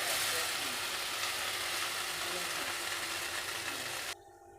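Homemade butter melts and sizzles in a kadhai over a gas flame, a steady, loud frying hiss that drops away abruptly near the end.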